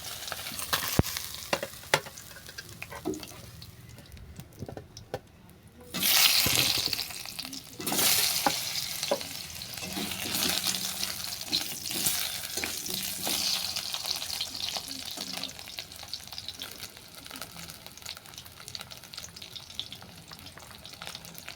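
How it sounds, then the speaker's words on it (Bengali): Pieces of elephant foot yam fry in hot oil left over from browning fish, a steady crackling sizzle that surges louder after a few seconds, with occasional utensil clinks and stirring scrapes, no voices. "এই তেলের মধ্যে ওলটাকে ভেজে নিচ্ছি।"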